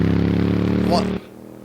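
A motorcycle engine in the racing game Assetto Corsa holds a steady, droning tone at close range before cutting off abruptly.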